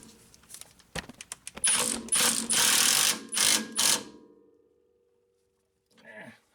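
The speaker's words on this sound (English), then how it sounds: "now we're going to snug up this lower fork bolt" A ratchet snugs up the lower fork bolt on a Honda Accord in a series of loud, rapid clicking bursts close to the microphone, then stops, followed by a brief faint sound.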